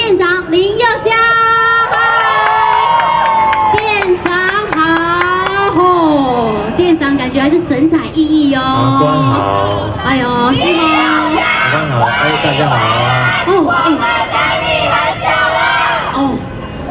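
A packed crowd at an album signing event in Taipei screams, shrieks and cheers to welcome the singer, with high excited voices and whoops rising and falling in a loud, dense roar that lasts throughout.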